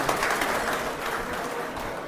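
Audience at a community awards ceremony claps to welcome a guest, a soft, steady patter of applause heard at a distance, fairly faint and without voices.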